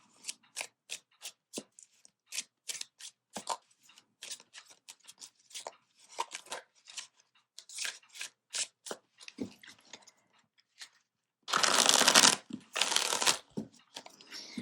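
Tarot cards are handled and shuffled for a 25-card reading: close, quiet snaps and taps in an irregular run, then a louder rushing riffle burst near the end.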